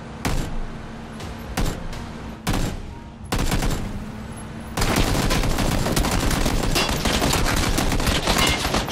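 Gunfire rattles through a PlayerUnknown's Battlegrounds match: short bursts of shots separated by gaps, then a sustained, dense stream of automatic fire, loud and close with no voices.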